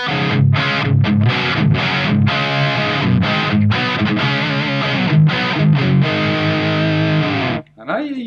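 Electric guitar played through the tube distortion channel of a 1980s ADA MP-1 preamp with no boost, a loud, thick, continuous distorted riff with chugging rhythmic accents that cuts off near the end.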